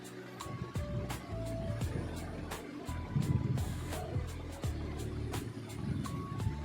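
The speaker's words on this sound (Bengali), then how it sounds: "তো পুরোটাই আমি এইভাবে সেলাই করে নেব।" Sewing machine stitching fabric, a rapid rhythmic mechanical clatter of needle strokes at close range, with faint clicks and short pauses between runs.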